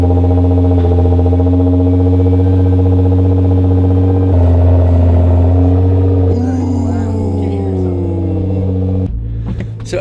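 A Nissan GT-R engine starts up and idles with a deep, loud rumble through a new loud aftermarket exhaust, then revs near the end, the exhaust growling close by.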